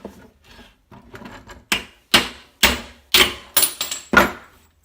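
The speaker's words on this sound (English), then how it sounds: "you're going to hammer it out on top of the axle bolt" A hammer drives a freecoaster hub axle out by striking on top of the axle bolt: a series of sharp metallic blows, about eight close hits in an uneven rhythm, preceded by quieter handling clatter.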